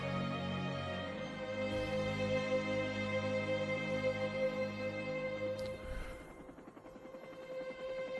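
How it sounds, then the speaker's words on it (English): A helicopter in the film Platoon hovers with a steady, droning rotor hum and engine whine, fairly loud and sustained, fading slightly toward the end with no speech. "A lot of dust in the chopper blades."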